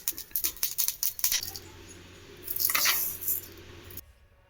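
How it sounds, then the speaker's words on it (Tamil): Mustard seeds pop and splutter in hot oil in a pan, a quick run of sharp crackling bursts at the start and then a louder hissing flare near the end, with no talking. "கடுகை நல்லா பொரிய விடலாம்."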